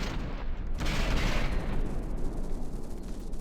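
Rear turrets of a warship firing in a naval combat video game, a dense rumbling barrage of heavy gunfire that peaks early and keeps rolling loud and steady throughout.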